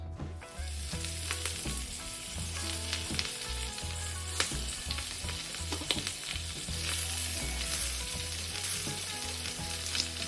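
A brisket grilled cheese sandwich toasts on a hot cast iron surface, giving a steady, close sizzle and frying crackle that runs through the whole stretch under a low, continuous hum.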